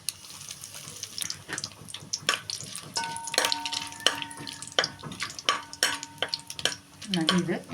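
Whole spices—cinnamon, cloves, bay leaf, star anise buds and fennel seeds—frying in oil for soya chunk pulao, heard as irregular close crackles, taps and faint stirring scrapes with light sizzle underneath.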